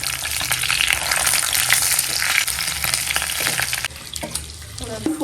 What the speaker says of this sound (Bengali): এই ডিমটা ভেজে নিলাম